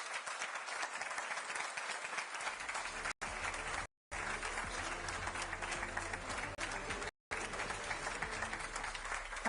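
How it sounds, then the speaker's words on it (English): A crowd applauds steadily and fairly loudly at the close of a live EU political event. The clapping carries on throughout, with a few brief dropouts. "A round of applause."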